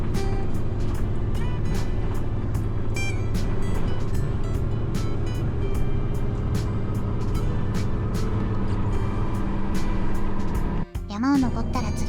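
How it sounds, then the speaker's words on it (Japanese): Kagoshima Kotsu bus engine laboring up a steep mountain road, a steady low drone heard from a rear seat with clicks and rattles, and a brief dip near the end. "後ろの席だとバスのエンジン音がよく聞こえます。"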